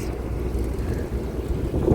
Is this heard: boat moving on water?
yes